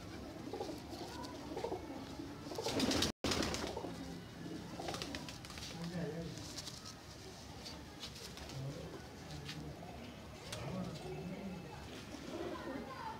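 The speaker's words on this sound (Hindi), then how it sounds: "एज वाला कबूतर है बड़ा" Pigeons coo in a loft of old-breed Sialkoti birds, soft low calls repeating through steady background noise with a brief loud burst near the start.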